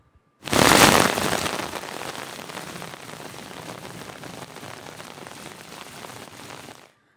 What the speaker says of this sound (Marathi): एकीकडे आपण पाहतोय की पाऊस किती जोरदार बरसत होता